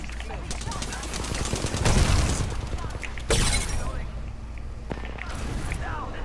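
Gunfire in the battle royale shooter Apex Legends: repeated automatic bursts and scattered single shots, fairly loud and continuous, heard under a player talking.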